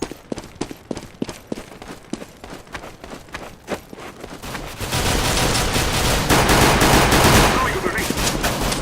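Glock-18 pistol fire in the game CS:GO comes as a loud run of sharp, rapid shots in uneven bursts for several seconds. It then gives way to a dense, continuous wash of game noise.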